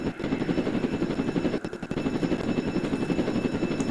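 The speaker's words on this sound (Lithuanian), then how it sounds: "būtų labai logiškas dalykas čia pasiparkuot sraigtasparnį" A helicopter in the video game Roblox, its rotor chopping in a steady, loud, pulsing rhythm with a short dip partway through, no talk.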